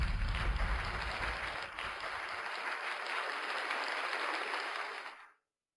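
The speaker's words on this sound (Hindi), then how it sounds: "तो चलिए अब हम तालियों के साथ स्वागत करते हैं" An audience applauds to welcome the president of a biotech company at a corporate event, a dense burst of many hands clapping that holds steady for about five seconds, then stops abruptly.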